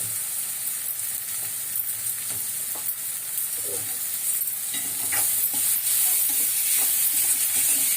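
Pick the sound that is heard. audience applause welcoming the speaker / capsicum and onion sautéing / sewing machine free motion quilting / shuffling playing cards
capsicum and onion sautéing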